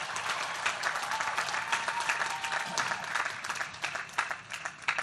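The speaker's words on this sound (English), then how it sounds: "Let's give them a big round of applause as well." Audience applause at a graduation ceremony, a dense sustained roar of many hands clapping filling the room steadily with no talk over it.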